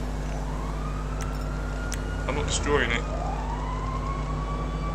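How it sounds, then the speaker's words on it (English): Fire brigade sirens in the video game GTA Online wail with a rising and falling tone over a steady engine drone, while a player talks over them. "Got sirens. Just a fire brigade."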